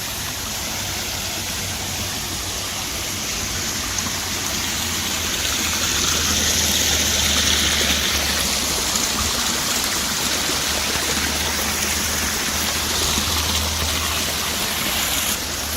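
Stream current running below a waterfall at a nature spot: steady broadband rushing water for the whole stretch, even and continuous, with a low rumble underneath and no talk.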